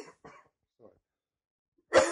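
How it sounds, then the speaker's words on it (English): A man clears his throat once, a loud rough burst at the end, after a few faint murmured sounds and a short silence. "Just clearing my throat."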